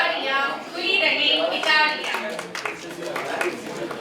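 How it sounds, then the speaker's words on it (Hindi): Applause at a family gathering, a steady patter of many hands clapping throughout, moderately loud, with children's voices and chatter mixed in. "तालियों की गड़गड़ाहट कम नहीं होनी चाहिए।"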